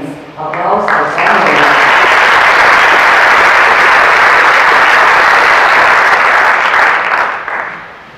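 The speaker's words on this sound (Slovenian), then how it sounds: "Aplavz za vse." Loud, dense applause at a Slovenian Armed Forces sports awards ceremony honouring absent judo medalists, rising quickly after a brief voice and holding steady for several seconds before tapering off.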